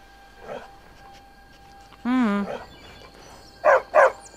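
A dog in the Skyrim video game gives two short, loud barks close by near the end, after an earlier yelp and a whine-like tone.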